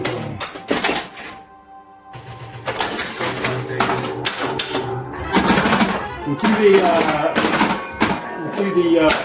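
A Baywatch pinball machine in play clatters and rings with rapid mechanical bursts, chimes and flipper clacks, close by and busy. Someone talks over the game at times.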